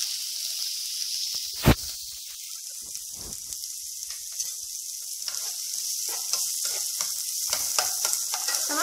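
Garlic and olives frying in oil in a pan for a sweet-and-sour carrot farofa, a steady bright sizzle running throughout with a few louder pops and crackles, no talking.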